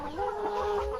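A chicken clucks close by in a short burst of low, throaty calls lasting about a second.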